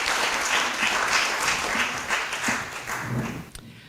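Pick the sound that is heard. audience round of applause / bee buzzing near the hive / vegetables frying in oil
audience round of applause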